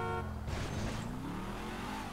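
A car in Grand Theft Auto V drives off, its engine rising in pitch and then holding a steady hum, near and fairly loud, with no talk.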